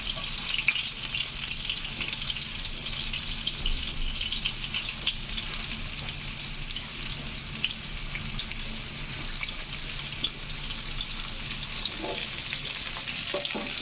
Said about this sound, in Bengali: অনেকদিন পর দেশীয় রান্না করতেছি।